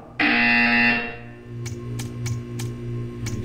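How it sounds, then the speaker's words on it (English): A loud, harsh electronic buzzer sounds for about a second, then stops, leaving a low hum with a few sharp clicks. "You will hear a buzzer. When you hear the buzzer, stare at the art."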